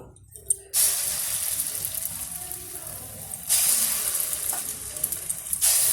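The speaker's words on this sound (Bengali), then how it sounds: "ওই আলু ভাজার তেলে আমি মুসুর ডালের বড়াগুলো ভেজে নেব" Masoor dal fritters frying in oil left over from frying potatoes produce a loud, steady hissing sizzle that starts abruptly and surges louder midway, heard close up with no speech.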